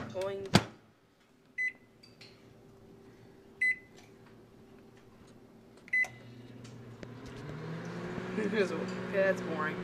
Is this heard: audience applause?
no